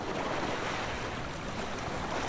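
Steady washing surf from the sea at night in the visual novel Summer Pockets, a continuous, even roar of waves with wind and no talking.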